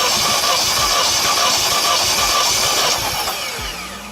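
A Vauxhall Corsa VXR engine cranks over during a compression test, giving a loud, close, continuous churning whir with a rapid rhythmic chug that fades slightly toward the end.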